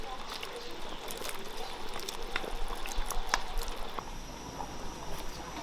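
Pork intestines dropped into a bubbling home hot pot with radish and potato, soft liquid bubbling and small splashes and clinks, fairly quiet and close.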